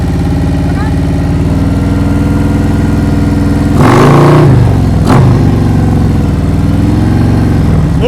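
Motorcycle engine idling steadily during slow-speed riding practice in Massachusetts, then briefly rising in revs as the bike pulls away in first gear, with the clutch let out and rear brake covered, before settling back to an even idle.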